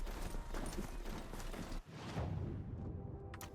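Mount hooves clip-clop steadily in the Horizon Zero Dawn video game, a continuous run of close hoofbeats that breaks briefly midway and resumes more unevenly.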